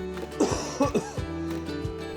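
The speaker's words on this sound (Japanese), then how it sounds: "咳をする夫" A man coughs several times in short, rough bursts, close by, with a faint steady background hum between the coughs.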